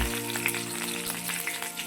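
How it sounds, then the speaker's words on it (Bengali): Black cumin seeds and two green chilies sizzle hard in hot oil left from frying fish, a loud, steady crackling hiss that stays close and constant with no voices. "ওই তেলে দিয়ে ফোড়নে দেবো কালো জিরে আর দেবো দুটো কাঁচা লঙ্কা"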